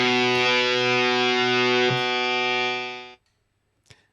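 Two EHX Freeze pedals in slow mode sustain a thick, distorted guitar-and-bass drone that holds steady for about three seconds, then fades quickly to silence, followed by a faint brief tap.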